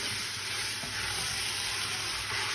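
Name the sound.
beef browning in a pan for casserole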